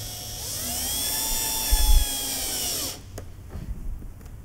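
A ShopBot Desktop CNC router drilling screw holes in a workpiece whirs loudly, its spindle whining steadily with rising and falling tones, then cuts off into quieter clicks and light mechanical rattling.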